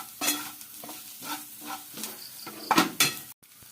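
Coconut masala roasting in a pan with a pinch of coriander powder for a Kerala clam roast, several bursts of spatula stirring and scraping over a light sizzle, with a brief metallic knock near the end.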